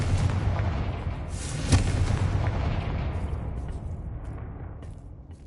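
A Confringo blasting spell goes off in Hogwarts Legacy, one sharp booming explosion near the middle over a dense rumbling background that slowly fades away. No one speaks.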